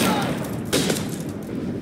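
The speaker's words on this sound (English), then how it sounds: "Just shoot everything!" Gunfire during a firefight in Starfield, rapid bursts of shots over a loud, dense battle din, with one sharp report standing out near the middle.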